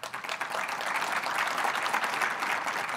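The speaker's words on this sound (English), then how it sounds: "Let's give our speaker a round of applause." Audience applause for a speaker at a tech conference, a steady burst of many hands clapping at moderate volume, heard from within the room.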